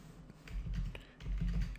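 Quiet keystrokes on a computer keyboard while entering PHP code for a MySQL database insert, light scattered taps close by with no voice over them.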